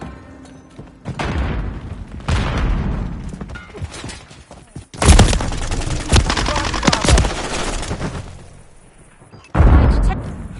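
A grenade explodes in Modern Warfare 3 multiplayer, a loud booming blast landing midway through amid near-constant machine-gun fire and scattered explosions, with another heavy burst at the end.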